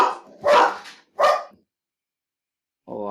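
Dog barking indoors after someone knocked at the front door, with several loud, close, harsh bursts in quick succession followed by a pause and one more.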